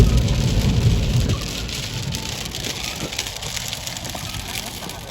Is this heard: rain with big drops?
yes